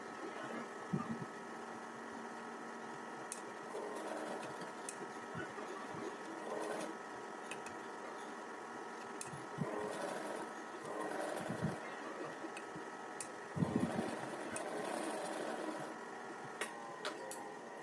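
A tailoring sewing machine stitches two pieces of fabric folded together for a latkan, giving a steady low mechanical hum and rattle with scattered louder knocks, moderately quiet and close, with no talking.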